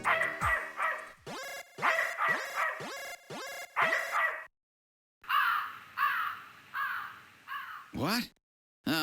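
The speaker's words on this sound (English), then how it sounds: "Ah, it's just a crow." A crow cawing in the video game Snatcher, a run of harsh, evenly spaced caws, loud and close, broken by a short pause before more calls follow.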